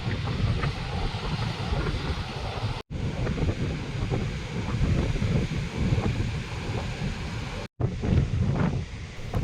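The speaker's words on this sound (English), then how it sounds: "look at those waves" Ocean waves at sunset roll in with a continuous loud roar and hiss, mixed with gusty wind noise on the microphone, over two short breaks in the recording.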